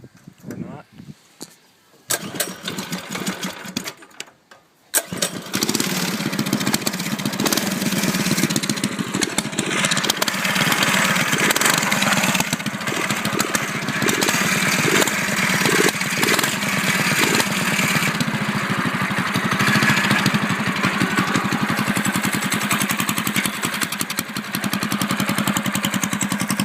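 The Predator 212 small engine on a mini chopper sputters through a choked start. It then settles into a loud, steady, buzzing idle that runs close by for the rest of the clip.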